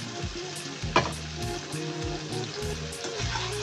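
Turmeric, coriander powder and red chilli powder frying and being stirred in a pan for a Mughlai chicken gravy, a close steady sizzle with a sharp scrape around one second and some music underneath.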